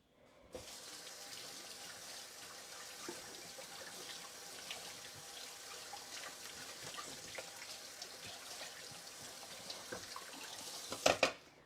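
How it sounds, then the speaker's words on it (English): Hot tap water runs steadily into a kitchen sink while hands are washed after preparing onions, a continuous close hiss of flowing water with a few louder splashes near the end. "I'm going to wash my hands now."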